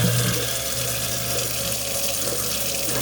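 A newly installed garbage disposal runs under a kitchen sink with water flowing, making a steady rushing wash over a low motor hum that stays even and fairly quiet for the whole stretch.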